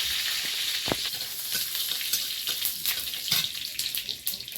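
Dried red chilies, mustard seeds and cumin frying in hot oil in a home kitchen, a steady close crackling sizzle with scattered sharp pops throughout and no talk.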